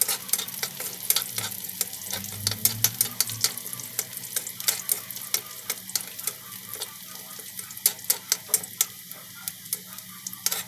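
Corned beef is stirred in oil in a frying pan: sharp, irregular taps and scrapes of a utensil against the pan ride over a soft, continuous sizzle, close up and with no voices.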